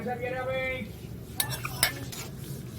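Fried potatoes being sautéed with spices in a pan, where a low background hum gives way to a few distinct clanks and scrapes of a metal spatula over a faint sizzle.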